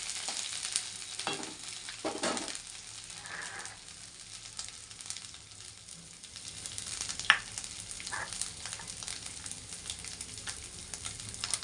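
Ginger garlic paste frying in a pan as it is stirred, a faint steady sizzle broken by scraping strokes and an occasional sharp clink, close and without voices.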